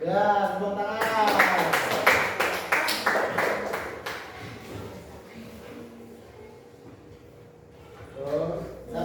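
A group of children claps hands in a lively, irregular run of claps lasting a few seconds, mixed with voices at the start and end and a quieter stretch in between.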